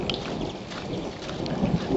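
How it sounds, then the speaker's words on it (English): Low thunder rumbles through a steady summer downpour, the rain hissing continuously on surfaces while a soft, distant roll sounds beneath it. "can hear a little thunder there."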